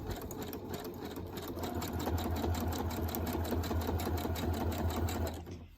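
A sewing machine stitches along the edges of pieced fabric with a fast, even mechanical chatter, close and steady for several seconds before stopping.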